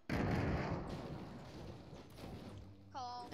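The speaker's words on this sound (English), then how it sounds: "I'm gonna explode this house." A C4 explosion in a first-person shooter video game, a loud close boom with a rumbling, noisy tail lasting a few seconds, ending with a brief voice.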